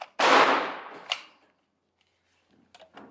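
A single loud Remington 700 rifle shot cracks out close by and decays over about a second. A short metallic clack follows, then quiet with faint small handling noises.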